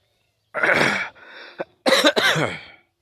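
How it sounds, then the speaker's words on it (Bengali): A man coughs outdoors in a gourd field on a winter morning: a harsh cough burst, a softer throat-clearing rasp, then a second pair of rough coughs, close and loud, with no talk. "একটু কাশি হচ্ছে।"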